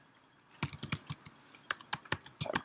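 Quick bursts of keystrokes on a computer keyboard as a terminal command is typed, close and crisp, in two clusters of rapid clicks with a short pause between, no talking.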